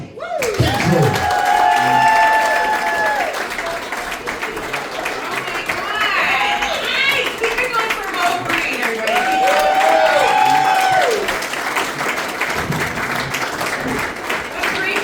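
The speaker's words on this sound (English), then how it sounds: "Could you please clap it up for Stacy?" A crowd applauds and cheers for several seconds, steady and fairly loud, with whoops and shouts rising over the clapping.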